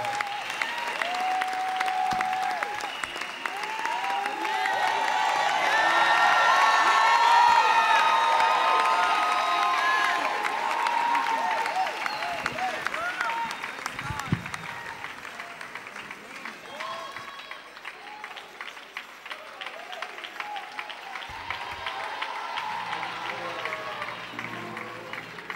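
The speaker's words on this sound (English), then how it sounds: "Clap those hands and thank God for them as they come." A church congregation claps and cheers as a group comes to the platform, loud sustained applause swelling to a peak early, then tapering into scattered clapping and whoops with voices underneath.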